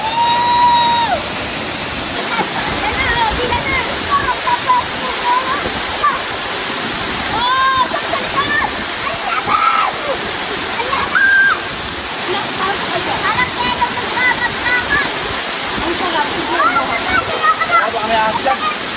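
Batlag Falls in the Sierra Madre pours in a loud, constant roar of cascading, sloshing water close by, with people talking over it throughout.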